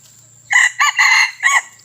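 A fighting-breed rooster crows loudly and close by, one hoarse, broken cock-a-doodle-doo in several bursts over a quiet background.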